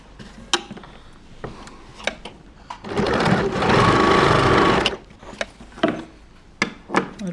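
An electric sewing machine stitches small tucks and a side seam on a garment, a loud two-second whirring run framed by sharp clicks and handling knocks before and after.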